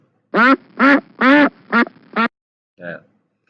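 A voice imitates a duck, giving five quick nasal quacks in a row, then a softer sixth after a short pause.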